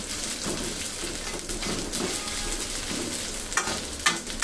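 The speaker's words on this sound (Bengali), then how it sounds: "চুলাটা আবার ধরিয়ে দিলাম, ধরিয়ে একটু হালকা আর 1 মিনিট ভেজে নিব" Masala for Punjabi-style chicken frying in a pan, a low continuous sizzle with a few stirring scrapes, while a bird coos faintly in the background.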